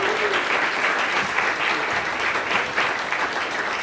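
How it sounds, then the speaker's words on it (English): An audience at a Porter Prize event in India cheers and applauds loudly and continuously, a dense wash of clapping with scattered whoops throughout. "I really like you to cheer really loudly for Amit Kapoor and this fantastic program."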